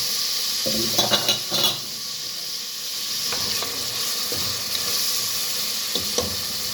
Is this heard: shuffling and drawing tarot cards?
no